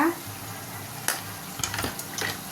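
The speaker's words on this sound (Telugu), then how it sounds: "ఉప్పు కారం అంతా బాగా కలిసేలాగా కలుపుకోవాలి." Village chicken curry with salt and chili powder gets stirred in a pot, a low frying hiss broken by several scraping spoon strokes and light clinks against the metal.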